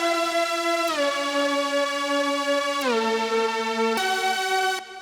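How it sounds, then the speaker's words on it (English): Glide Glass lead synth preset from Purity playing a bright, sustained harmonic line that slides smoothly down in pitch between held notes, alone and fairly loud. "It's a synth, lead synth,"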